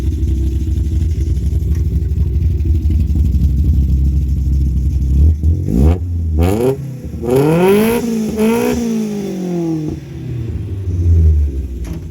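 A VW Golf 1 engine fitted with a 272 cam idles with a lumpy, loping rumble, then is revved in short blips that rise and fall, close and loud, with a rough, uneven idle between the revs.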